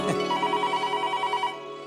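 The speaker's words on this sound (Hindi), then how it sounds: "ये फोन बजा" A telephone rings with a steady, repeating electronic warble, loud and close, continuing for nearly two seconds before trailing off.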